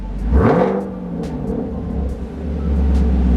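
A car engine revs once up close, the pitch climbing then sliding back down to a steady idle rumble, with the idle swelling again slightly near the end.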